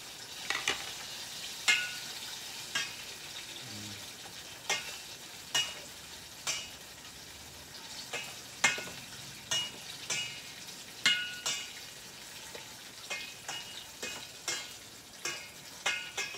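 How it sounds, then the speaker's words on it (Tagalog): Pakbet vegetable stew bubbles softly in a pot while a utensil stirs it, giving a steady run of regular scraping knocks over a low simmering hiss, with no talk. "haluin natin ngayon yung ating pakbet"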